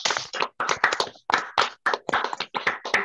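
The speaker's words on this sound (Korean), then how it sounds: "한번 박수 한번 치겠습니다." Audience clapping at a church lay leaders' seminar, a short round of close, uneven hand claps in loose bursts rather than a dense crowd roar.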